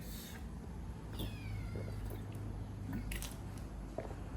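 A cat gives a drawn-out meow at close range, rising and falling, over a steady low hum of background noise.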